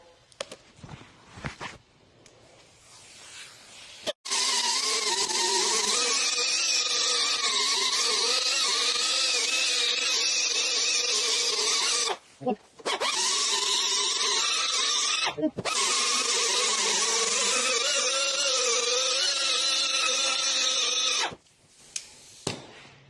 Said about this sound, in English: This is 60 grit, just on an angle grinder.